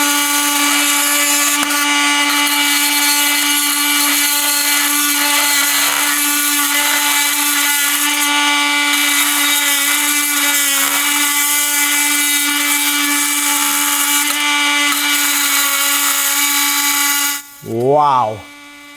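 A Milwaukee M18 FUEL oscillating multi-tool cuts through nails with a loud, steady high-pitched buzz and grinding. It runs without a break for about seventeen seconds and then winds down.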